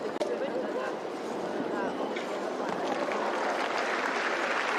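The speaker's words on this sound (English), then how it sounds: "Applause as he's still clear." An audience at a Longines Global Champions Tour show jumping Grand Prix claps steadily as a horse goes clear. The applause sounds fairly distant and soft, with a commentator's voice running over it.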